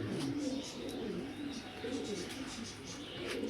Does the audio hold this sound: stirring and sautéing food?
no